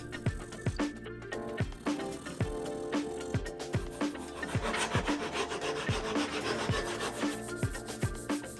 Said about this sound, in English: I can trim them flush with a Japanese pole saw.